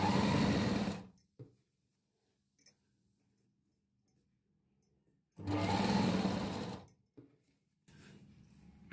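A sewing machine stitches piping onto a blouse in two short loud bursts of rapid mechanical whirring, the first at the start and a longer one a few seconds later, with quiet clicks and handling noises between.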